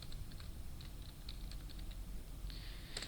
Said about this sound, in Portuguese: Quando eu dou um Enter e eu executo a seta para baixo do meu teclado